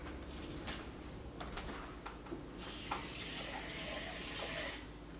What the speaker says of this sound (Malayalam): ഞാൻ ഈ മിക്സിയുടെ ജാറിൽ കുറച്ച് വെള്ളം ഒഴിച്ചിട്ട് വെള്ളം ചേർക്കാം